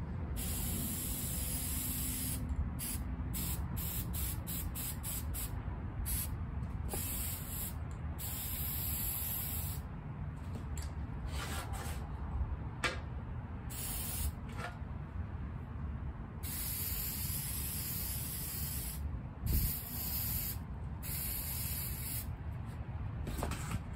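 A spray can coats a stick in paint with a long, fairly quiet hiss that runs continuously, broken up by short bursts and pauses as the nozzle is pressed and released.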